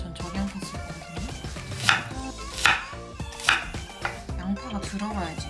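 Onion being chopped with a knife on a board for a salmon sandwich, a steady series of close, crisp knife strikes with a few louder chops, no talking.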